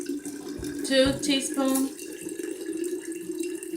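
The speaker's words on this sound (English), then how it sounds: "while my daughter's adding water in there" Water running from a tap into a jar while making water kefir with sugar, a close continuous pour with a brief louder surge, heard under a voice counting out measurements.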